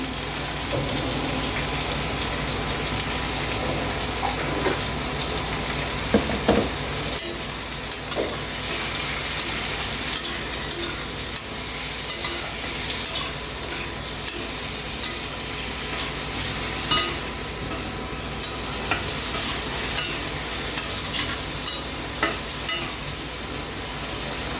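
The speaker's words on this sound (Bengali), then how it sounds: "বেগুনগুলো এতক্ষণ ভাজা হচ্ছে।" Eggplant and potato pieces fry in a pan with turmeric and salt, a steady sizzle with scraping stirs and a few sharp utensil knocks running throughout, close and without talk.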